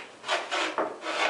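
A wooden plein air field box drawer slides outward in three close, rasping wooden scrapes, near and alone.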